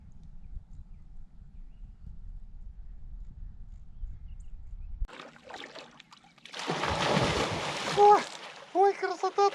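Clear, cold river water splashes up close after a stretch of quiet low rumble, with a burst of churning splashes followed by a person's voice at the end.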